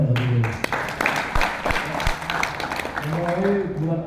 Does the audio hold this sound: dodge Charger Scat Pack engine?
no